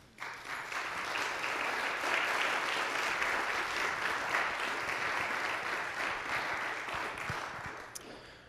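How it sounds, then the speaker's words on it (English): Steady, dense applause from an organ concert audience in Gloucester, thanking the sponsors and holding full and even for several seconds before easing slightly near the end. "I'd like you to give them a round of applause"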